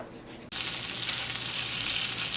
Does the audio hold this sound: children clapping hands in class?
no